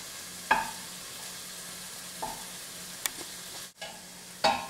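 Ground beef frying in a pan while a utensil chops it into bite-sized pieces: a low steady sizzle broken by a few sharp scraping taps of the spatula against the pan, close and moderately quiet.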